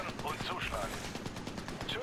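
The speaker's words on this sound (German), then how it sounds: "er schießt auf dich" Machine-gun fire in the video game Army of Two: The Devil's Cartel rattles in rapid, fairly quiet bursts, with a voice faintly audible in the mix.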